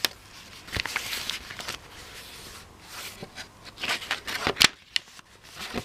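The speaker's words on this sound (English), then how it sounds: "And just some more stamping." Rubber stamps pressed onto paper pages of a small handmade junk journal give soft, irregular taps and rustles, close and quiet, with paper handling between the thuds.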